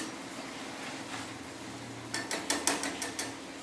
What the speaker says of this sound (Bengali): আলুগুলো দিয়ে দিলাম। আবার একটু নেড়ে নিলাম।